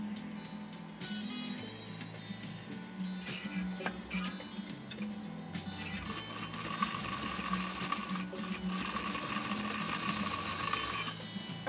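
A 1935 Singer 95-60 industrial sewing machine runs steadily with a fast, even mechanical ticking and whirring, quiet and close, growing a little louder and busier in the second half.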